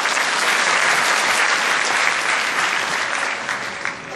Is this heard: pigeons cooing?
no